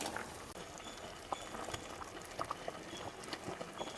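Rice and urad dal simmering in water in a pot until the water cooks off, a soft steady bubbling with scattered small pops, fairly faint and close, with no voices.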